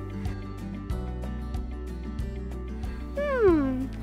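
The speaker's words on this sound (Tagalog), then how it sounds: "Meow. Meow. Ang puna ni Pusing Pusa." A single drawn-out meow from a cat near the end, rising then falling, after a stretch of steady low background hum with faint ticking.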